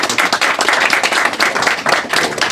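An audience at a talk breaks into sustained applause after a presentation, dense loud clapping from many hands filling the room without pause.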